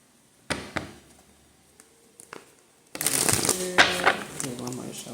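Cards riffle and shuffle in a quick burst of crisp flutters, with a couple of brief taps before, fairly close and loud.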